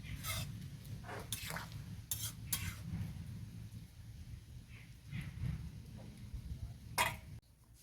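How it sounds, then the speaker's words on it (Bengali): A spoon stirs sugar into a jujube (kul) pickle in a village-style kitchen, giving irregular scraping and clinking strokes against the pot over a low, steady background rumble, with no talk. "চিনিটাকে খুব ভালো মতো করে মিক্স করে নেব"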